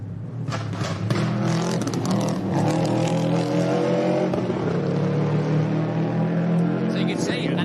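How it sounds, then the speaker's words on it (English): A Subaru rally car at full speed on an Adelaide Hills stage, its engine roaring steadily with gear changes and revs up close, while a voice speaks over the noise. "Let's have a listen to the Subaru in full flight here in Adelaide."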